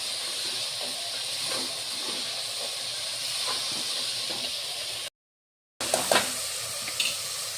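Capsicum and green beans sizzle steadily in a hot pan, a constant hiss with a few scraping stirs, briefly cut off before the sizzle resumes with clinks.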